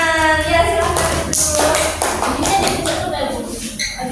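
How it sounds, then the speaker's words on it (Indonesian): Children in a classroom clap in a brief burst, and a teacher's voice runs over and through the clapping at close range. "bagus sekali anak ini tepuk tangan"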